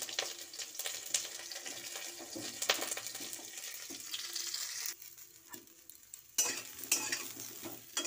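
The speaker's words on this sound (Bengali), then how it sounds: "প্রথমে হচ্ছে ফুলকপিগুলো ভেজে নেব" Cauliflower florets fry in a pan for winter vegetable cooking, giving a steady crackling sizzle with stirring scrapes throughout and a brief quieter dip partway before the frying noise surges back.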